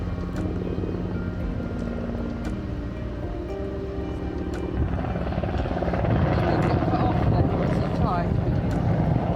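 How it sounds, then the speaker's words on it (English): A helicopter circling over the coastal cliffs at Bedruthan Steps: steady thudding rotor drones continuously nearby, growing slightly louder toward the end, with wind noise on the microphone. "He's just circling round it, isn't he?"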